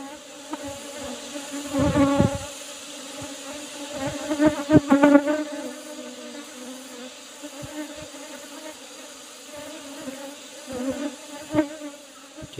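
Asian honeybees (Apis cerana) buzzing around an opened hive during a honey harvest, a close, wavering drone with several louder bursts as bees fly past, no talking.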